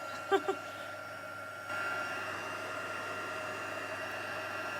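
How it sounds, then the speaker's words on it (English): A heat tool blowing hot air to melt embossing powder, a steady whooshing hum that holds on after two brief taps at the start, with no talking. "It really doesn't take too long once the heat tool's at a great temperature."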